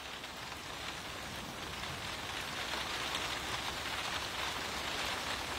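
Steady rain falls and patters on surfaces in an even, continuous hiss, alone and close.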